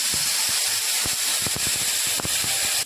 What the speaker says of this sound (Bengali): কড়াতে আমি 1/2 চামচ মতো বাটার দিয়ে দিলাম।